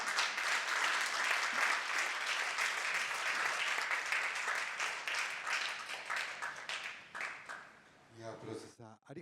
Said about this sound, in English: Please, another round of applause for Ms. Miyagawa, please